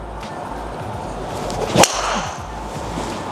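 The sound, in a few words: golf driver hitting a ball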